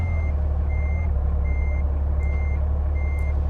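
A Volvo FH 2013 truck's reversing alarm beeps in a steady, evenly spaced rhythm over a low, rumbling engine idle in Euro Truck Simulator 2.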